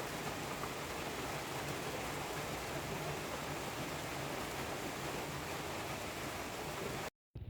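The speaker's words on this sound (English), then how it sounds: "I'm caught in the rain." Steady rain hisses all around, a dense broadband wash from a motorbike courier caught in a downpour, unbroken until a brief cut at the end.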